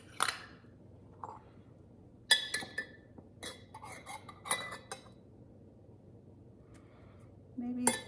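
Cherry tomatoes are spooned into a salad bowl, giving several scattered clinks and taps of a spoon against a dish with quiet gaps between them, close and fairly soft.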